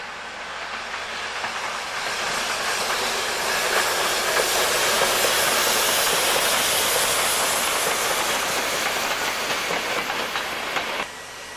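A steady, broad hiss of venting steam from a class 65 steam locomotive fills a railway station in Thuringia in winter, continuous and fairly loud, cutting off abruptly near the end.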